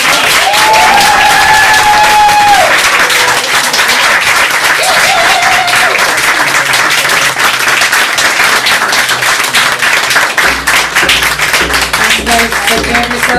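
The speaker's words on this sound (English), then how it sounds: "can we please give a huge round of applause?" Audience applause at a White House event, steady broadband clapping sustained throughout, with brief tonal sounds and a low hum entering near the end.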